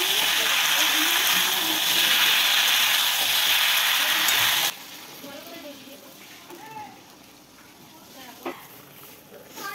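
Chicken pieces fry in a hot pan with a loud, steady sizzle for several seconds, then the sound drops to a softer hiss with scattered crackles and a light stir.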